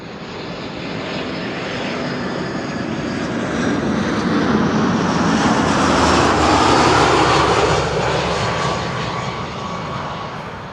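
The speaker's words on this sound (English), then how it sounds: "an A319 arriving from Birmingham." EasyJet Airbus A319 jet on arrival at Amsterdam Schiphol, engine roar swelling to a peak midway then fading as it passes, a broad continuous whine-and-rush with no talk.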